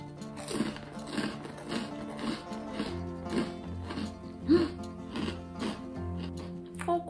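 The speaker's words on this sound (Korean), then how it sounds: "이거 빵이 그 빵 테두리 겉에 러스크처럼 씹으면서 막 부스러지는데 이 크림치즈랑 같이 먹으니까" Someone bites and chews crusty low-calorie diet bread with cream cheese; the crust is rusk-like. Repeated close crunches come at a steady pace over soft background music.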